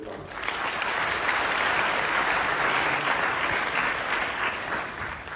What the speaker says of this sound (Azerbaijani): mümkünsə bir daha bunların komandasına böyük alqış